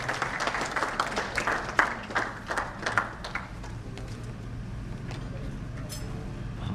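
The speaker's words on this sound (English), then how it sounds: "Round of applause for him." Audience applause at an award ceremony after the final awardee, a burst of clapping that fades out after a few seconds into a low background hum of the hall.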